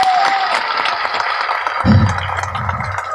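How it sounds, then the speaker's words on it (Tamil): An audience at a Tamil film audio launch event claps for a man named Siva, a dense burst of applause with a heavier rumble joining partway through and a crowd murmur beneath. "அவனுக்கு ஒரு பலத்த கரகோஷம் கொடுங்க"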